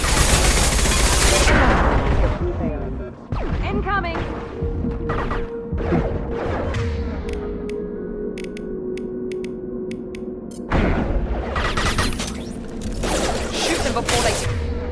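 Intense video game battle gunfire, with dense volleys and rapid bursts of shots that continue for long stretches, then ease into sparser shots before heavy firing resumes, all loud and close.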